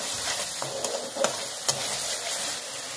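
Half-boiled potatoes fry in hot oil with a quiet, steady sizzle, broken by a few light scrapes and knocks of a stirring spoon, with no voices.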